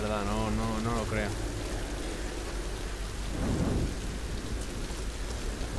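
Steady heavy rain and a rumbling roll of thunder in the Tomb Raider I video game, a dense continuous hiss with a low swelling boom midway, with a voice briefly heard at the start.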